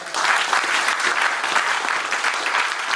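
A church congregation applauds at a sermon, with dense, steady clapping from many hands filling the whole three seconds at close range.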